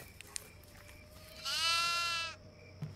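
A goat in the horror video game Devour lets out a single loud, drawn-out bleat that lasts about a second, with faint game ambience before and after.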